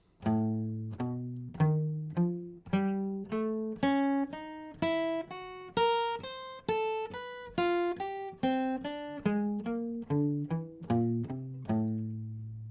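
Clean guitar plays a steady run of single picked notes climbing up and back down the neck, evenly paced, quiet and alone.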